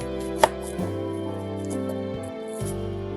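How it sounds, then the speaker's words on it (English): Peeled onions are chopped with a knife, with a few sharp, isolated cuts against a quiet, tonal background hum. "So I'm finished cutting up peeling my onions. So I'm gonna chop them up now."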